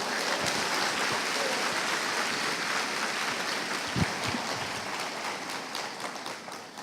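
A church congregation applauds during a worship service, a sustained wash of clapping at moderate distance that holds steady for several seconds and then slowly tapers.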